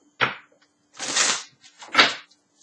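Three short bursts of tarot cards being shuffled, a quick snap followed by two longer riffling swishes, close and alone with no talk.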